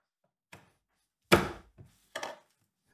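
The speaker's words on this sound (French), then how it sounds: "Voilà, j'écrase de l'ail." Unpeeled garlic cloves crushed on a kitchen board for flavouring gratin cream, heard as three separate dull thuds, the middle one loudest, close with quiet gaps between.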